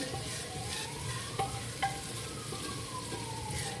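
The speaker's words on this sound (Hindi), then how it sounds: "इसे भी हम लहसुन के साथ 4 से 5 मिनट मज़ीद इसे भी सौते करेंगे हल्की आंच पे" Ground onion and garlic sauté over low heat, a steady soft sizzle with a couple of faint stirring knocks, quiet and continuous throughout.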